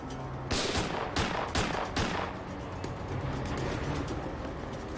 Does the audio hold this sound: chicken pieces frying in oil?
no